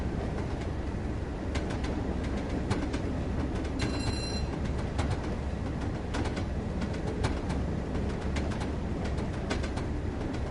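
A diesel-electric train coasts along the Tees Valley route in Train Sim World, its steady rolling rumble carrying clicks of wheels over rail joints, with faint bird calls above.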